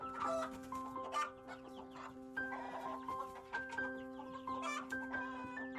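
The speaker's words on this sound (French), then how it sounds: "Les coqs entonnent leurs chants stridents avec une vigueur débordante, mêlant leur voix au bêlement des chèvres impatientes" Roosters crow and chickens cluck nearby, several calls overlapping with goats bleating in a busy farmyard chorus with a steady hum beneath.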